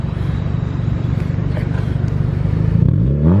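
GMC Sierra truck engine idling with a steady, loud low rumble, then revving up sharply near the end as the pitch climbs.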